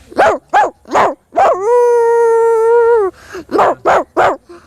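A human voice mimics a dog, giving a run of short yapping barks around one long drawn-out whine, all close and loud.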